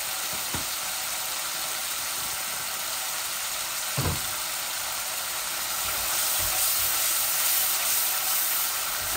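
Overheated oil sizzles loudly and steadily as spiced chicken fries in a pan, a constant close hiss. A few faint clinks and pops break through it.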